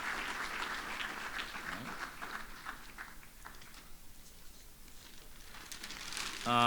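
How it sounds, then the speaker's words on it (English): Applause from guests at a retirement celebration, a moderately loud round of clapping that thins out and fades toward the end, with faint voices in the background. "Give her one more round of applause."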